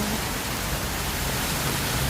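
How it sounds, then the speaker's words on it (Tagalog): Steady, fairly faint rain falls outdoors as an even, continuous hiss with no voices and no pauses. "Agoy, umuulan."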